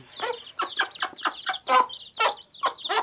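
A mother hen with fifteen chicks on a Thai farm clucks in a steady run of short, close calls, about eight bursts in three seconds, with no other sounds.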